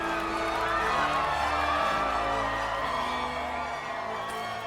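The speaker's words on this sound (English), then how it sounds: "this crowd is going crazy over Mystery Inc." A large crowd cheers and whoops outside a museum premiere on a red carpet, a dense, continuous roar of voices at steady loudness throughout.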